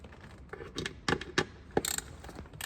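A screwdriver backs small T25 Torx screws out of plastic, producing a handful of sharp, close ratcheting clicks and ticks spread irregularly over a few seconds.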